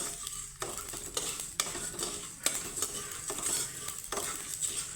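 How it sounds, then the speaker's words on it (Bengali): Food fries in a pan with a continuous quiet sizzle and hiss, punctuated by repeated scraping stirs and clinks of a utensil against the pan, with no voices. "দেখতে পাচ্ছ একটা সাউন্ড হচ্ছে মানে ভাজা হচ্ছে"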